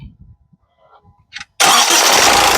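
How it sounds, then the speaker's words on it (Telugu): A 2014 Honda City VX engine cranks briefly and fires up abruptly after near silence, then runs loud and steady close by. "సింగిల్ సెల్ఫ్ లో కార్ స్టార్ట్ అయితే ఎటువంటి స్టార్టింగ్ ట్రబుల్ అయితే లేదండి"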